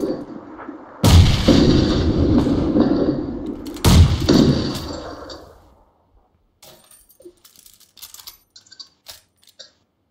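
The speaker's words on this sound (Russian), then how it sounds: "Граната." A grenade explodes in PUBG Lite: two loud, sharp blasts a few seconds apart, each with a long rumbling decay, followed by scattered faint clicks and rattles.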